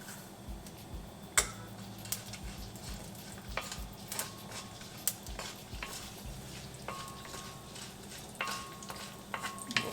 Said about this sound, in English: Saute these for a few seconds until the cumin starts browning.